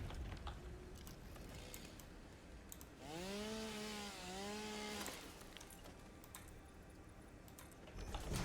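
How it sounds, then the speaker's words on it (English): A chainsaw in a video game cuts through a building's foundation, giving a steady gritty buzz with a brief revving whine in the middle. The sound is continuous and close. "cut it up with the chainsaw"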